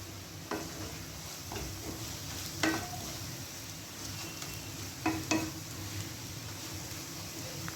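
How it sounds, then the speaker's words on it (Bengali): Ground coriander, turmeric and chicken curry masala fry in a pan, making a steady close sizzle. A utensil stirs and scrapes through the spices in several short bursts, with no talking. "এটাকে দিয়ে ভালো করে ভাজা ভাজা হবে"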